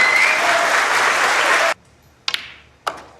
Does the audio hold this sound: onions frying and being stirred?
no